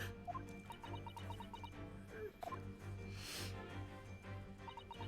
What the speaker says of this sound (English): There is a chicken.